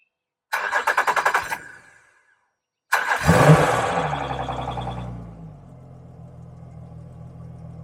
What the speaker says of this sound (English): Time to turn it on, and before we actually try to start it, we need to turn the engine on